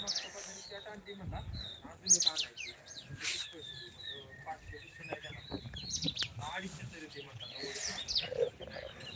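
Sparrows chirp and tweet in quick, scattered calls nearby on farmland in Maan taluka, with a few louder bursts and soft background noise.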